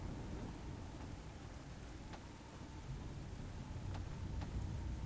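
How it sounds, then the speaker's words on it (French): Steady rain hisses through a video game thunderstorm with low rumbling thunder, a few sharp crackles standing out, quiet overall and without voices. "la chose qui m'a fait le plus peur du jeu c'est l'éclair"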